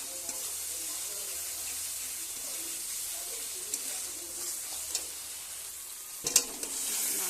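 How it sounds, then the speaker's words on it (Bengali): Tomatoes sizzle steadily in a pan with turmeric as a spoon stirs them, giving soft scraping scuffs and a few sharper knocks near the end. The frying is low-level and constant, with no talking. "তারপর আমি টমেটোগুলো দিয়ে দিলাম।"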